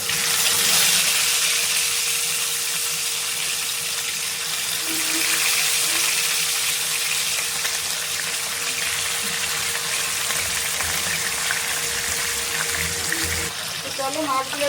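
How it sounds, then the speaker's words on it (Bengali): Small fish coated in salt and turmeric frying in hot oil in a pan, a steady, loud, dense sizzle and crackle that continues without a break throughout. "তেল গরম হয়ে গেছে। এবারে মাছগুলো দিয়ে দেব।"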